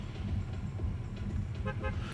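A Fortnite Battle Bus horn honks twice in short, tonal toots near the end, over a steady low rumble of in-game engine noise.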